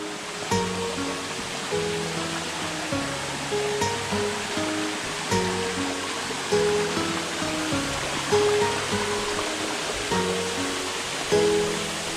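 Rushing water at Vazhappara waterfall in Pathanapuram makes a steady, dense roar for the whole stretch, with a faint changing tonal layer over it and no voices.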